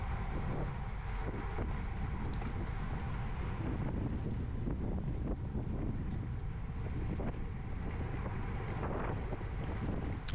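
Strong wind roars steadily past during a bike race, a constant loud buffeting rush with low rumble and no voices.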